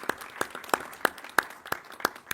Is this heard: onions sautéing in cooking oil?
no